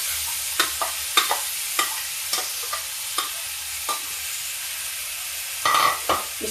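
Fennel seeds fry in a pan over high heat under a steady hiss, while a spoon scrapes and stirs in a slow, irregular rhythm of about a dozen close taps and clinks, with no talk.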